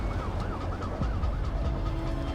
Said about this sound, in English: I get Mark's instinct to just follow that ambulance